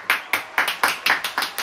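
A short run of steady hand clapping at the start of a weekly NFL picks show, about seven crisp claps in an even rhythm, close and fairly loud with no talk over it.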